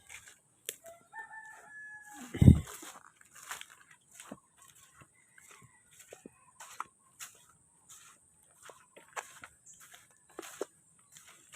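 Chickens cluck softly in a chicken coop on a rainy, muddy farm, with one loud, close rooster crow breaking out early amid scattered clucks and calls.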